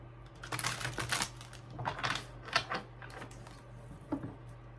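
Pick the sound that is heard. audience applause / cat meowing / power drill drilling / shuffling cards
shuffling cards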